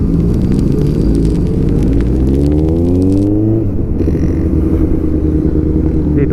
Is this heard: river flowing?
no